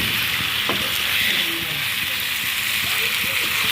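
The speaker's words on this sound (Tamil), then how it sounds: "இப்போ கிண்டி விட்டுக்கணும்." Chicken biryani masala sizzles and fries in hot oil while being stirred in a pan, a steady close crackling hiss with occasional scraping clinks of the spoon.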